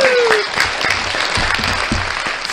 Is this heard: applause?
yes